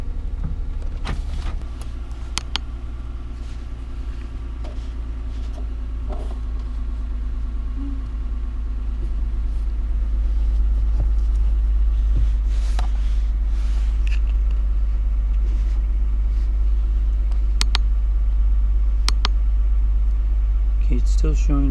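A 2007 Toyota engine idles steadily after a P0354 ignition coil trouble code has been cleared, a constant low rumble with faint clicks on top, while someone talks throughout.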